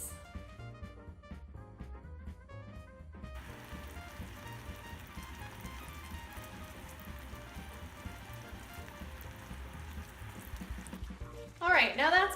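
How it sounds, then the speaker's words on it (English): Oat fudge mixture boils in a saucepan on the stove with a soft, steady bubbling and crackle, fairly quiet throughout, while someone talks over it. "Now I've added all that to a saucepan, which I'm going to bring to a boil."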